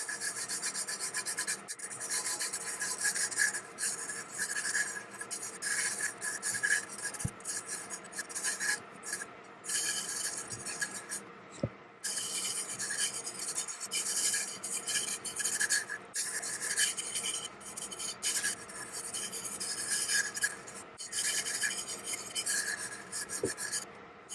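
Hard rubbing on a tack-it method tumbler, a continuous rasping scrub repeated in rapid strokes for over twenty seconds with only brief pauses.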